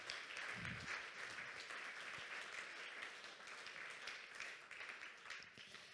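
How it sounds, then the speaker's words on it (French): Conference audience at Agile en Seine 2021 applauds after a talk, giving steady, fairly faint clapping from a roomful of people that carries on for about six seconds. "On peut applaudir Michel."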